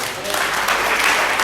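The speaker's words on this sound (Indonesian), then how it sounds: "Berikan tepuk tangan bagi Tuhan." A church congregation applauding during a service, a dense steady wash of clapping that fills the short span at full level with no pause.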